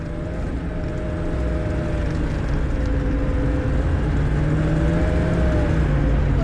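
A car drifts at speed on a bumpy surface with a sustained, loud engine drone whose pitch rises gradually as it accelerates, steady and close throughout.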